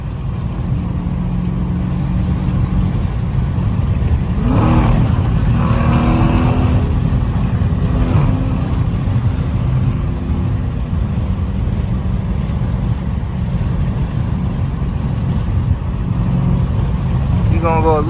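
Dodge Challenger Scatpack 392 V8 with its catalytic converters deleted, a deep, steady exhaust drone heard from inside the car while driving, with a rising rev swell midway through and constant road roar.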